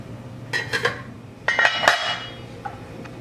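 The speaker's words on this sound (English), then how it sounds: "So now I'll get my lid and put my lid on." A metal lid set onto a cooking pot of simmering French onion and potato soup, heard as two close, bright clusters of clattering clinks a second apart, then a faint final tap.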